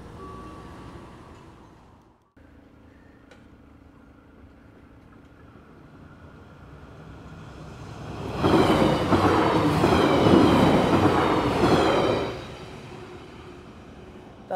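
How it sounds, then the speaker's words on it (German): A train rumbles past on the tracks, building from a distant hum into a loud roar for several seconds, then fading quickly. "Das war der Zug, mit dem ich heute Morgen gekommen bin."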